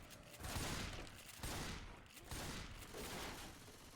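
SMG gunfire in a competitive video game tournament match, rapid bursts of shots in several rolling waves that surge and dip at a faint, distant level.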